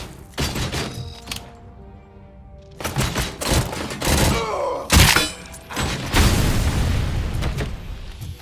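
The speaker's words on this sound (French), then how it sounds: "Un coup de tête." Headbutt in the video game Robocop Rogue City amid combat: several loud, percussive thuds and bursts break the quiet, including one especially heavy, punchy impact near the middle, with rattling gunfire-like noise around it.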